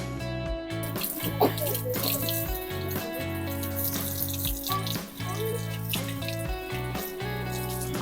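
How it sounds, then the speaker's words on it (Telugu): Water runs steadily from a tap, splashing and trickling continuously as tender tamarind leaves are rinsed under it, with occasional drips and clinks. "ఈ చెంత చిగురిని అంతా అయితే ఒకసారి క్లీన్ చేసుకున్నాము వాటర్తో"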